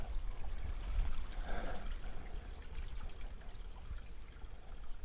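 Spring water trickling over rocks along a mountain trail, a steady close babbling flow with a brief splashy swell near the start, continuous and moderately loud with no talking.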